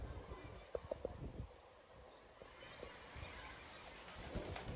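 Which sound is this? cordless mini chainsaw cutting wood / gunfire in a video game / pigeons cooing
pigeons cooing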